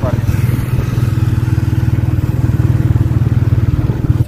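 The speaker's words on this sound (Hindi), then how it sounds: "ठीक है, अभी मोटरसाइकिल पर है।" Steady low rumble of a motorcycle engine heard from the rider's seat, loud and continuous with a pulsing throb and wind noise throughout.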